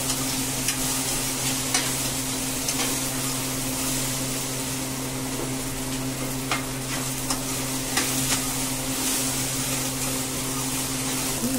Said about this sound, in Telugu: కొద్దిగా నూనె వేసుకొని ఇలా వేయించుకోవాలా.